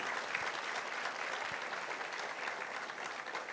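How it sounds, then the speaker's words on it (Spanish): Church audience giving warm applause, a dense, even stream of many hands clapping at moderate distance that continues steadily to the end. "Vamos a darles un, aplauso de cariño."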